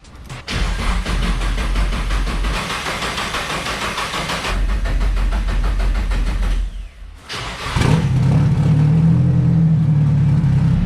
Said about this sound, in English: I'm gonna crank it without fuel to try and build a little bit of oil pressure before we actually turn the car on